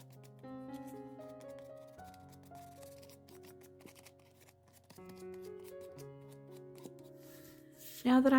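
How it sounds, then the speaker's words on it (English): A painted wooden footstool is lightly sanded with fine 120 to 180 grit sandpaper, producing soft, rapid scratchy strokes that sit faintly beneath steady background music, ending with a louder rustle. "I'm just going to lightly sand the stool."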